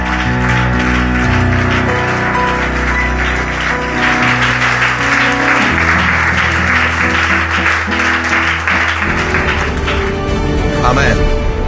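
A church congregation applauds and cheers over loud music, a sustained wash of clapping and voices that swells through the middle and stays strong to the end.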